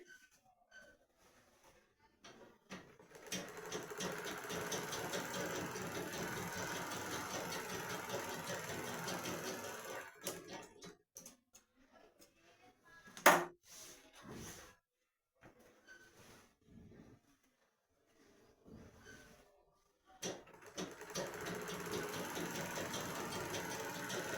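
An interlock sewing machine stitches Patiala pant fabric, running in long steady mechanical bursts of rapid whirring with pauses and a sharp clack between runs.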